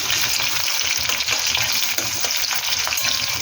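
Onion frying in a pan with half a spoon of garlic paste added for chicken kosha, a loud, steady, close sizzle with scattered crackles and brief stirring scrapes throughout, no voices.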